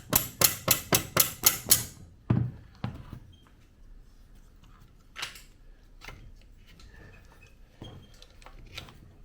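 A hammer taps a bent shift shaft out of a 2004 Honda CRF150 engine during a teardown: six quick, sharp metallic blows in a row, then one more strike and faint clinks of parts being handled.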